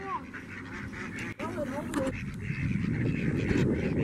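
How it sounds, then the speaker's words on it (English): Ducks and geese calling at a park pond where people are feeding them bread, with a few short honking and quacking calls near the start under busy outdoor chatter and voices. "Ain't that the Aflac duck?"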